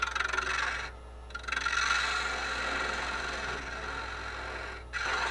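A gouge hollowing out a small live edge wooden succulent pot spinning on a lathe, giving a steady rough scraping and rasping over a constant motor hum, with brief pauses where the tool lifts off the wood.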